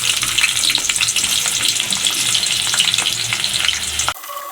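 Chopped onion fries in hot oil for a white broiler chicken roast, a loud, dense sizzle crackling steadily close by with stirring scrapes, then cutting off abruptly just before the end.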